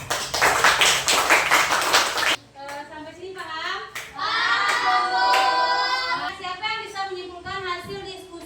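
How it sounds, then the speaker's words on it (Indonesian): Scattered hand claps from a classroom of students for a presenting group, short bursts after a dense stretch of clapping, with children's voices and chatter running underneath. "Tepuk tangan untuk semuanya."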